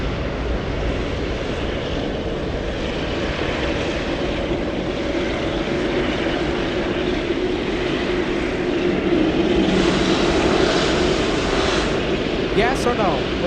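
Korean Air airliner in its new livery at San Francisco International Airport, a steady broadband jet engine roar that swells slightly toward the end, heard continuously at moderate distance with no talk over it.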